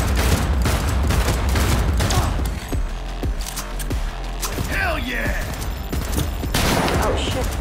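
Rapid bursts of gunfire from a firefight in the video game Cyberpunk 2077 crackle loudly and almost continuously, with scattered booms and mechanical clatter, while a player talks over the action.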